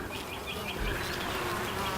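Honey bees swarm thickly over a heavily populated hive frame, giving a continuous droning buzz with a few louder individual bees passing near the mic.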